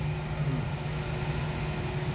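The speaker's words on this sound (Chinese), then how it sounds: "客机 A366 在台北松山机场滑行哦" An Airbus A320-232 jet airliner taxiing at Taipei Songshan Airport gives off a steady, fairly distant engine drone and hum that holds level throughout, with no voices.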